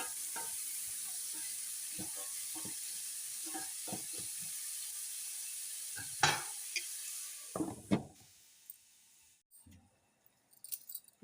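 Onions fry and sizzle in a pan for about eight seconds with stirring clatter from a utensil, then the sizzle drops away, leaving a few faint knocks.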